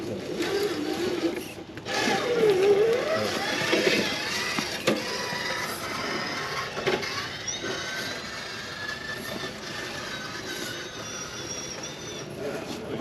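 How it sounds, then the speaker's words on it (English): An RC rock crawler drives among others at a crawler meetup on Belle Isle, a whirring, ratcheting drivetrain with a brief rising whine, steady and fairly close, with outdoor background noise. "Unique sounding crawler"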